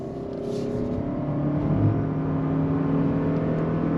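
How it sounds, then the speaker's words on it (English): A 2025 Toyota Camry LE with all-wheel drive accelerating under throttle, a steady engine and electric-motor whir heard from inside the cabin, rising slightly in pitch, with no talk. "All-wheel drive on throttle."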